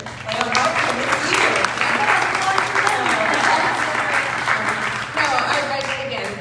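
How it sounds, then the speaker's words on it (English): Audience applause for a student moderator at a school district PTA candidate forum, steady crowd clapping filling the room for several seconds, with talk audible beneath it. "please give a round of applause to our awesome moderator, Leah Hartman"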